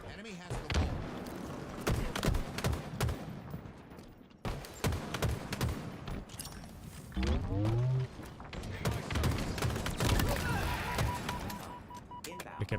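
Rapid gunfire from a Halo match, sustained rattling bursts and thuds mixed with announcer voice callouts and game effects, fairly dense throughout with a brief lull partway.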